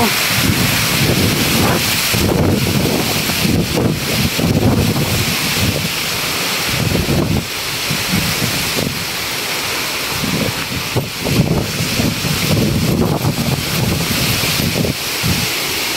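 Roaring typhoon wind howls and gusts continuously at a house in Taisan, loud and close, with rushing, rattling noise surging throughout.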